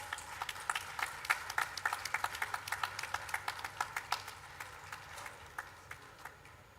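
Clapping at an animal health conference session, thin and distinct individual claps in a quick, regular rhythm that gradually slows and fades, sounding like a modest audience a little distant in the room.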